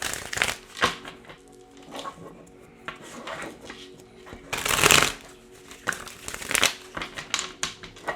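Oracle cards being shuffled by hand, a run of papery riffles and slides with a louder burst near the middle, close and clear with no talk over it.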